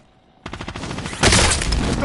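Rapid automatic gunfire from a video game erupts after a quiet moment, a dense rattling burst aimed at the player that grows louder and more intense partway through.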